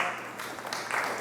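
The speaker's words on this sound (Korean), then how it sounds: "큰 박수로 모시겠습니다." Audience applause at a Seoul AI hub startup lecture, a brief burst of clapping from the crowd lasting about a second.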